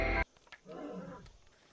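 A deep, rumbling animal roar swells and fades, preceded by a brief loud burst of noise.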